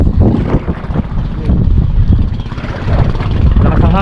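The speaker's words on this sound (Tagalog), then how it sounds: "Lakas ang hangin" Strong wind buffets the microphone on a boat at sea, a steady loud roar with gusty swells and a constant low rumble underneath.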